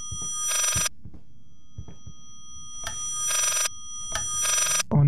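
Three insistent rings from a telephone bell sound in the horror game Layers of Fear, loud metallic bursts spaced evenly apart, separated by faint thumps and creaks in an otherwise quiet interior.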